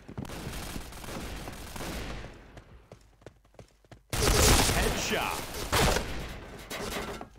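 Rapid bursts of gunfire from the online shooter Point Blank, loud and dense after a sparser stretch of scattered shots, with a voice talking over parts of it.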